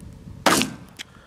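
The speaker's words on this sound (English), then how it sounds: "I'm going to use a 22 Magnum" A single sharp 22 Magnum pistol shot from a Kel-Tec, loud and close, with a short decaying tail and a faint click or echo a half second later.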